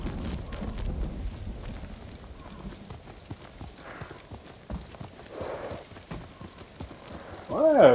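Horse hooves clip-clopping at a gallop in the Ghost of Tsushima video game, a rapid steady rhythm running under light ambience, then a horse whinnies near the end.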